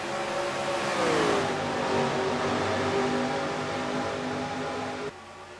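Stock cars from the NR2003 racing game downshift through the gears, a loud, close engine drone sliding down in pitch as the revs drop, then settling into a steady hum before cutting back abruptly near the end.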